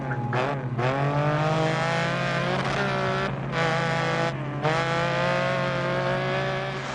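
Lancia Stratos rally car engine in DiRT Rally, revving loud and close with a rising, rasping whine and brief drops between gear shifts.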